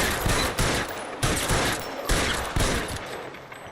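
Rapid bursts of gunfire in the video game L.A. Noire, several loud volleys of shots in quick succession separated by brief gaps.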